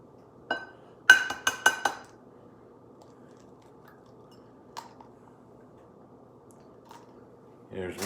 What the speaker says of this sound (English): And I'm gonna take 2 eggs. And crack them